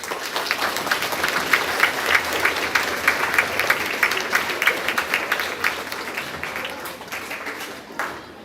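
Students and families clap for honor roll students at a grades 4-6 school awards assembly, a lively burst of many hands that fades out toward the end.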